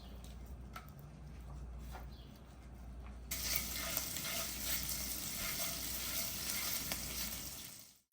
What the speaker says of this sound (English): Give it a good stir. We're going to cook our garlic until it becomes fragrant.